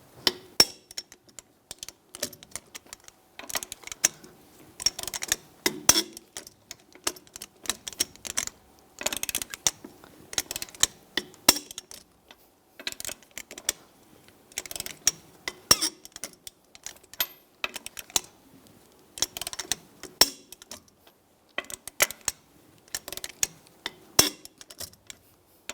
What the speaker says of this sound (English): Now we're going to torque the lug nuts to 140 foot-pounds in a cross pattern to tighten the wheel down